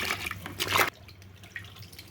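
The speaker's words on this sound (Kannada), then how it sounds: "ಇದನ್ನು ಮತ್ತೆ ನಾನು ನೀರಿಗೆ ಹಾಕ್ತೀನಿ. ಚೆನ್ನಾಗಿ ತೊಳ್ಕೊಬೇಕು." Wild desi mushrooms washed in water, with a loud splashing slosh lasting under a second, then quieter drips and small trickles.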